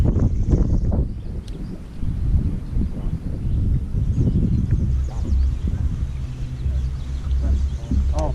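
Wind buffets the microphone in a steady, low rumbling roar with gusty swells throughout, outdoors on open water while fishing for largemouth bass in Minnesota.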